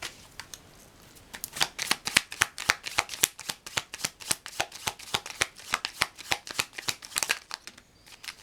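Tarot cards are shuffled close up, a rapid run of crisp papery riffles and flicks in a quick steady rhythm, soft at first and then louder and faster before stopping.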